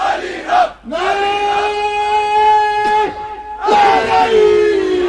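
A crowd at a religious gathering (majlis) shouts a slogan response in unison, loud drawn-out massed voices in two long swells with a short pause between, sounding close and reverberant.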